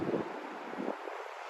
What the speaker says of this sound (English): it is crazy windy here in downtown Miami tonight